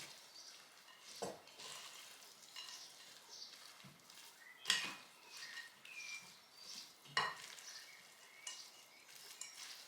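Granola ingredients, including strawberry, chocolate and pistachio, stirred together in a bowl, giving a soft continuous rustling and scraping with a few sharper clinks of the utensil. The sound is close but quiet, with no talking.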